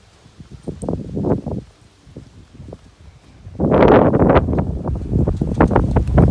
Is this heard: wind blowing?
yes